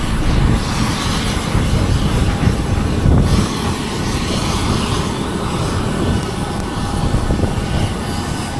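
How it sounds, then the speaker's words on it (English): Aircraft engines run on an airport tarmac, giving a steady, loud, broadband roar that holds without a break throughout, with no talking. "The smell, sights and sounds of the airport are always exhilarating."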